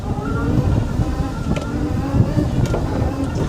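A children's electric ride-on car running at its lowest speed, a low steady motor drone with rolling rumble, heard close and fairly loud with no voices over it.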